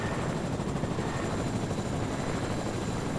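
A helicopter in the game Fortnite flies with a steady, loud rotor drone and engine roar that fill the whole stretch with no break.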